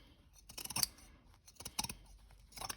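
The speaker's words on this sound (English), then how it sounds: "I'm just using my pinking shears here to take some of the bulk out" Pinking shears snipping through fabric while trimming bulk from a sewn book sleeve: several crisp, close metallic snips in short clusters, separated by quiet pauses, with no voices.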